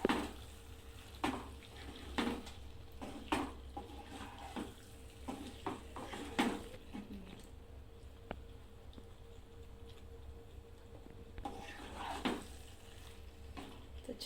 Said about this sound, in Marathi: ह्याला पण छान असं परतून घ्यायचं आहे.